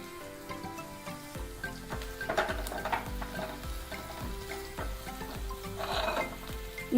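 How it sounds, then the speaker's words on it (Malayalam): Onions sautéing in a pan for scrambled egg curry give a steady, close sizzle and frying crackle, with occasional scraping stir strokes and no talk. "സവാള അധികം മൂക്കേണ്ട ആവശ്യമില്ല, ചെറുതായി ഒന്ന് നിറം മാറിയാൽ മതി"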